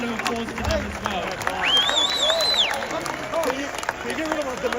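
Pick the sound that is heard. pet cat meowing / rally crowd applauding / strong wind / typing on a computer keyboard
rally crowd applauding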